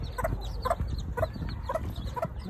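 Newly hatched chicks from a hen's brood of seven peep in a steady series of short high cheeps, about one every half second, close and clear, with low cluck-like sounds beneath.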